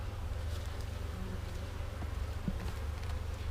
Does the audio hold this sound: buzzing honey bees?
yes